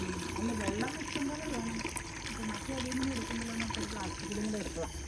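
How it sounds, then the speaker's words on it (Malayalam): Water is poured to rinse dishes at home during a Christmas dinner for fifteen guests, a soft continuous splashing trickle under a person talking nearby. "ചുമ്മാ ഒരു വെള്ളം ഒഴിച്ച് കഴുകും"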